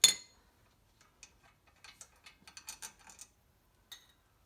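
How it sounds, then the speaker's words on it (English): Ratchet clicks while brake caliper bolts are removed from a 2000 Mustang GT, heard as a sharp opening burst followed by short bursts of quick metallic ticking that come and go, close by and fairly faint, with no talk. "We're coming in here and taking the brake caliper bolts off"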